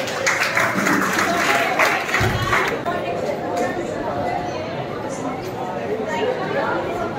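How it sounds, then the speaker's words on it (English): Audience applause and cheering for 12th standard students at a school farewell event, a dense wash of clapping that starts loud and gradually thins into crowd chatter and murmuring. "Round of applause for our 12th standard students."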